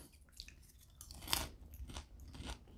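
Crispy microwave popcorn, popped in a silicone bowl, is bitten and chewed close up, giving soft, quiet crunches in an uneven rhythm with a sharper crackle partway through.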